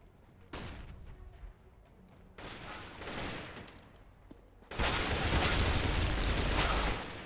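Gunfire rings out in Counter-Strike: Global Offensive on the Dust 2 map: scattered shots early, then a louder, sustained burst of fire in the second half, with no voices.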